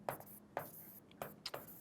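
Chalk or marker strokes on a board during a Class 9 maths lesson on triangles, four or five short scratchy marks in an uneven rhythm, faint and close, with no voice over them.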